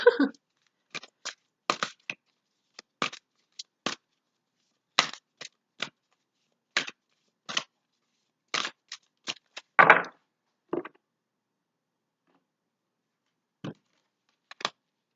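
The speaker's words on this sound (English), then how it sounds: "I'm going to pull out now 3 cards here from Angel Tarot for you" Angel Tarot cards being shuffled and drawn at close range: a run of sharp, crisp card flicks and snaps, a denser riffle near the middle, then a few scattered taps after a quiet pause.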